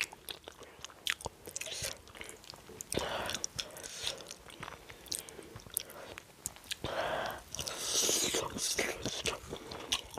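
Close, crunchy chewing and biting of cassava leaf stew eaten with fufu and cow foot, wet mouth sounds repeating irregularly with soft whispery breaths in between.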